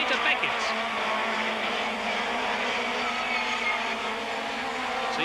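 A BMW and a Ford touring car race nose to tail into a corner, the engines a loud, steady, close roar throughout, with brief tyre noise and a commentator talking over the top.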